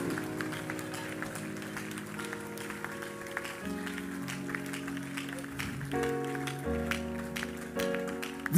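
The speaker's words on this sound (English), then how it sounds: "Give the Lord another clap offering." A church congregation claps during a Sunday Bible study while sustained keyboard or organ chords play, the applause forming a soft, continuous patter beneath the music.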